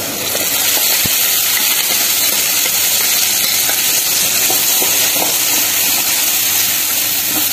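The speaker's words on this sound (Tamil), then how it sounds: "இது நல்லா எண்ணெய் பிரிஞ்சு வர வரைக்கும் நல்லா வதக்கிக்கலாங்க" Blended tomato paste sautés in hot oil with onion and garlic for turkey berry kulambu, giving a loud, continuous close sizzle and bubbling hiss with occasional stirring scrapes, no talking.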